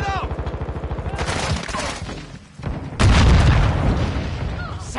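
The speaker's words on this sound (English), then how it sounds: "Grenade out!" Gunfire rattles steadily in Warzone 2 combat, then a loud grenade explosion booms at about three seconds, followed by more shots and a dense roar of battle close by.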